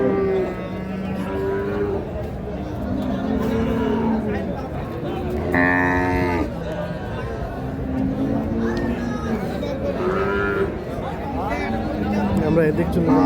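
Cows moo at an outdoor cattle market, several drawn-out calls rising over a steady hubbub of nearby talk and crowd chatter.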